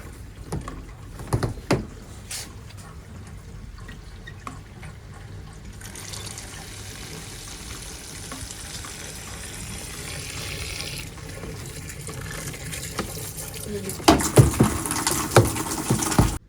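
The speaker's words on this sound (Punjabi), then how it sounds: "ਪਾਣੀ ਡਰੇਨ ਕਰਤਾ" Water drains out after a load of washed sheets, bedspreads and a blanket cover, a quiet, continuous splashing flow that swells slightly toward the end, with no talking.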